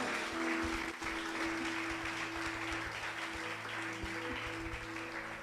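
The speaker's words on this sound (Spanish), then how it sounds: "Dele palmas al Rey de Gloria." A church congregation claps during a Spanish-language sermon service, a steady wash of applause at moderate volume with a sustained musical tone humming underneath throughout.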